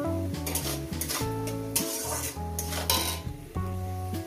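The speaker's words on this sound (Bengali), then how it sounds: "দিয়ে আমি 1 থেকে 2 মিনিট এটাকে ভেজে নেব।" Fish belly pieces with turmeric fry in a pan, with steady sizzling and repeated clinks and scrapes of a utensil against the pan, close and unaccompanied by talk.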